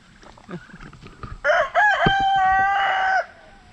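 A rooster crows once loudly and close, a long wavering cock-a-doodle-doo preceded by soft clucking.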